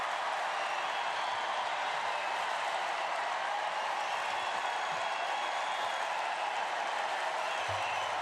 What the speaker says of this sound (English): This is the longest round of applause.